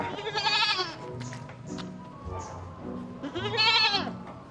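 A goat bleats in two loud, wavering calls near the start and end, close by, with faint background noise between them.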